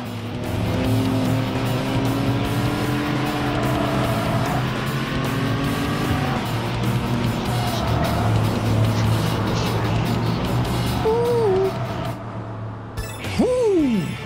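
Race car spinning out in the video game Tokyo Xtreme Racer 3, a steady loud engine drone with shifting pitch and tire squeals, ending in a sharp skid and swerve.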